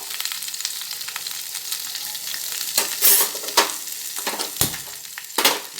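Potatoes and tomatoes frying in a pan, a steady close sizzle with spatula scrapes and stirring knocks breaking through in several bursts toward the end.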